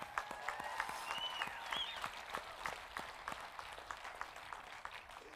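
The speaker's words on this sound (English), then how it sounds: "That's worth a clap." Church congregation applauding at a church's 20th anniversary celebration in Queen Creek, steady mid-distance clapping from a crowd with brief tones ringing over it.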